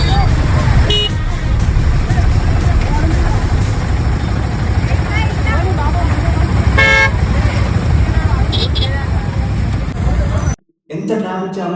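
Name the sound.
traffic jam with car horns honking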